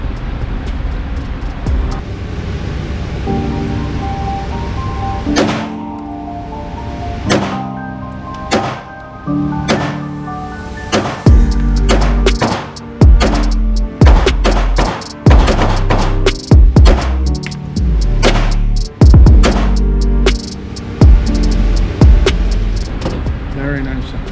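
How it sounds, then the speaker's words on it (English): A PSA Dagger pistol firing 115-grain rounds at a 7-yard target: a few isolated sharp reports, then a loud, fairly steady string of shots, with some talk mixed in. "We're just going to be putting some shots on it."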